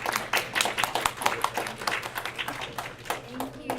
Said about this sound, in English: let's please give a round of applause for our speakers, Jason and Serubiri